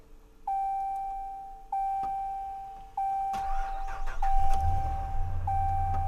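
Toyota RAV4 on a jump start. Several chimes repeat first, then the engine cranks and catches and settles into a steady idle nearby, with no talking.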